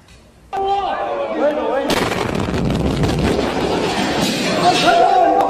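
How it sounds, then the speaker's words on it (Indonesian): A sudden loud bomb blast erupts at a mosque in Yemen during Eid al-Adha prayers, followed by a sustained roar of rumbling and crackling debris, with shouting voices rising over the din. "Inilah detik-detik ledakan kedua di Masjid Balili"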